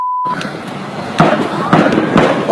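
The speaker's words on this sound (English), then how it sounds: "they just shot up my house right now" Gunshots in a shootout at a house, several sharp loud bangs at uneven intervals over a noisy, clamorous background.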